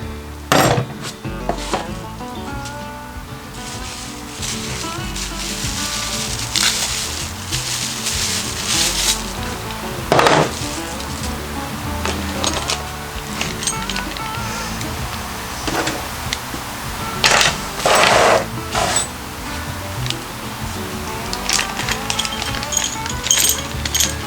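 A hand-cranking device for a crossbow, either a Killer Instinct Fierce 405 or a CenterPoint Patriot 425, works in a steady run of close, dry ratcheting clicks and knocks with occasional louder clacks, and no one speaks.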